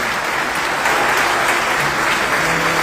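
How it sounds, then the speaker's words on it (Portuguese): A church congregation gives strong applause to the Lord. The dense clapping is steady and fills the room for about three seconds, with no voice over it. "Receba com forte aplauso ao Senhor."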